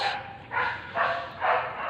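Dog barking outdoors, three or four evenly spaced, moderately loud barks over a low background hum.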